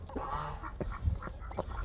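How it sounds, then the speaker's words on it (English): A duck eating watermelon gives several soft, nasal honking quacks amid low rustling and pecking noises, close by and without talk. "dining with the duck"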